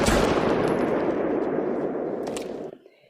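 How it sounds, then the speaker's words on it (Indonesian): Gunshots fired into the sky in a film scene, a loud burst of rapid automatic fire that rings out and fades over about three seconds. "calon pembeli barang tiba-tiba melesatkan tembakan ke arah langit"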